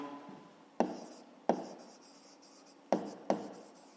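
Pen writing by hand on paper, soft scratchy strokes broken by four sharp taps as the pen meets the page, close and quiet with no speech.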